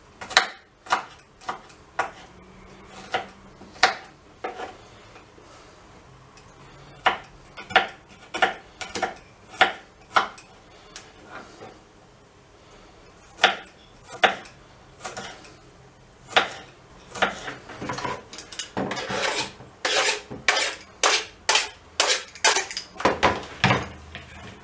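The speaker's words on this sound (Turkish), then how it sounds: "İki büyük diş sarımsağı yine incecik doğruyoruz." A knife finely chops garlic and a large red capia pepper on a board, making irregular, sharp clicking taps that come faster and denser toward the end, close up and with no talking.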